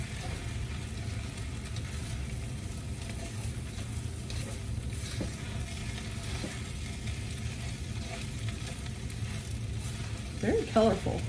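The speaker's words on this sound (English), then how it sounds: "now you're gonna mix that all together again and just make sure that the rice absorbs all of the juices" Kimchi fried rice is stirred in a hot pan, sizzling and frying steadily and close by, with a few louder scrapes and clinks near the end. A person talks over it.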